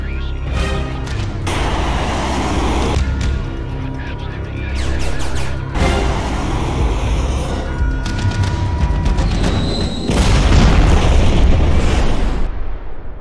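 Heavy booming missile explosions and blasts in a Eurofighter combat aircraft sequence, loud and dense, with repeated bursts and rumbling over about thirteen seconds, building to a stronger blast near the end.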